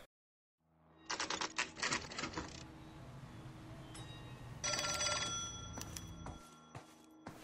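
An old-fashioned telephone bell rings in the 1940s-style crime game L.A. Noire, two loud jangling bursts separated by a pause, with low game ambience underneath.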